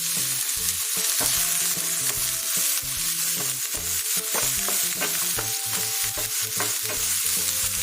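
Ginger and green chillies sauté in hot oil in a pan for a vegetable cutlet mixture, a loud, steady close-up sizzle with repeated scraping stirs and no voices.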